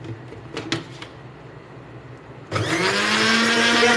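Electric blender grinding garlic mayo sauce as oil is added, a few soft knocks and clinks first, then the motor starts abruptly into a loud steady whirring roar that runs to the end.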